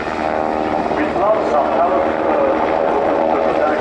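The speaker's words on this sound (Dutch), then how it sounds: "Het toestel is uitgerust met twee motoren met elk 1900 pk." A twin-engine Sikorsky UH-60 Black Hawk helicopter at the Sanicole sunset airshow, a steady, continuous rotor and engine drone that runs loud throughout while a commentator speaks over it.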